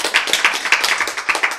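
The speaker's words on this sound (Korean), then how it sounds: "네, 박수!" A small audience in a Bible lecture claps in a quick, uneven patter of sharp hand slaps, loud and close, lasting under two seconds.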